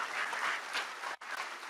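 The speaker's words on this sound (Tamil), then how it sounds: "ஒரு நல்ல கைத்தட்டல் கொடுத்தீங்கன்னா அவருக்கு ஒரு தெம்பாக இருக்கும்." Applause from the audience at a Tamil public debate on service, a dense sustained patter of clapping that briefly drops out near the end, then resumes.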